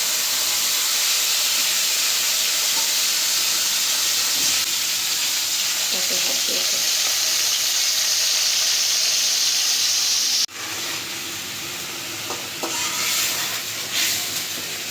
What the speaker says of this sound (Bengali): এখন তেল গরম হয়ে গেছে দিয়ে দিব এই মশলাগুলো